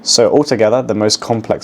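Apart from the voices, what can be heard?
No distinct noise like a dog, phone or traffic.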